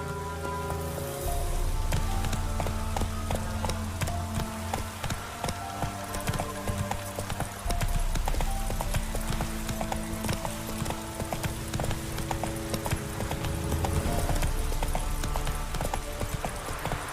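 Roach's galloping hooves pound in a fast, steady clip-clop in The Witcher 3, loud and close, with rain pattering around and a brief whinny.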